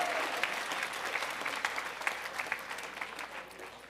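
Audience applause at an Italian heritage reception, steady clapping from a crowd throughout with a few sharper individual claps standing out.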